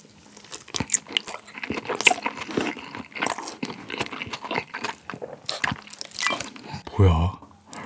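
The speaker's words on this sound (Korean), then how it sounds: "마지막으로 밥이랑 한번 먹어볼게요" Mala Rose braised chicken eaten with rice is chewed close to the mic, giving wet, squishy bites and smacking mouth sounds in an irregular rhythm, with a louder bite near the end.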